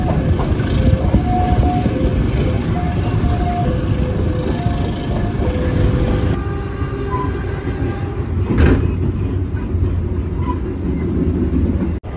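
The Blambangan Express passenger train runs with a loud, continuous rolling rumble, faint squealing tones and a single louder clank partway through, all close and steady.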